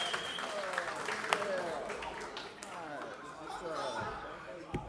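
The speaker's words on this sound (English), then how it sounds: "give me a round of applause" Audience applause welcoming a class of newly graduated law enforcement officers at a ceremony, a steady wash of clapping mixed with crowd chatter and some laughter, with voices talking throughout.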